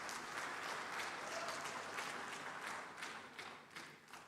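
An audience at the 30th Afreximbank Annual Meetings conference in 2023 applauds, a dense, even patter of many hands that thins out and fades into scattered claps near the end.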